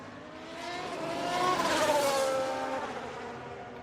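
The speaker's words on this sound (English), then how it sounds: "Engine audio sounds good." A Formula 1 car engine from the video game F1 Manager 22 swells as the car passes by, high revving tone rising then falling over a few seconds, with no talking.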